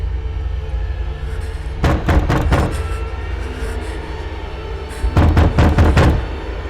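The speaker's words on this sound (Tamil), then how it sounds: "நீ ஏன் கதவு தட்டுற?" Knuckles rap on a door in a scene from a Tamil comedy thriller film, two separate bursts of four or five loud, heavy knocks each, over a steady low rumble of background ambience.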